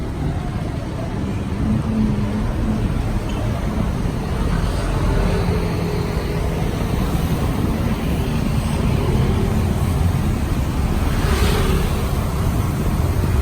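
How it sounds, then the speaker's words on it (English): Steady close engine drone and road rumble from a tuk-tuk weaving through Quezon City traffic, with broadband wind and traffic noise continuous throughout and no talking. "I'm in a goddamn tuk-tuk."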